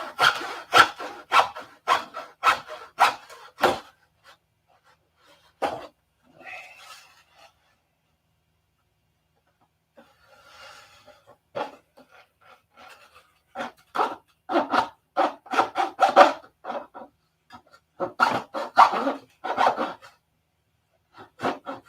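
A hand saw cuts through the center section of a model P-47 wing in bursts of quick back-and-forth rasping strokes, close and fairly loud, separated by pauses and short handling noises.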